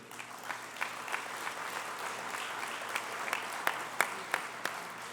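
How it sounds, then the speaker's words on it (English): An audience at the ATU 58th convention applauds steadily, a dense wash of clapping with a few sharper claps standing out near the end, no voices on top. "Offense, yeah, applaud that."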